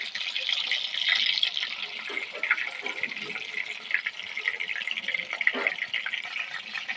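Pumpkin leaf prawn rolls fry in hot oil three at a time, giving a steady, close, crackling sizzle with small bursts of spitting throughout.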